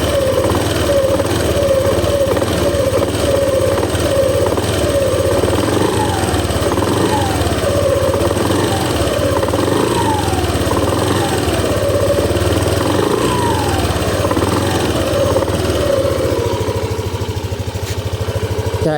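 Yamaha Aerox SP motor scooter engine, hot at about 83 Celsius, revving in repeated rising sweeps over a steady loud idle, close by and continuous with no talk.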